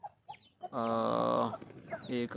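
Black Aseel hen on a farm, a drawn-out, close cluck-like call lasting about a second, bracketed by short soft clucks and faint talk.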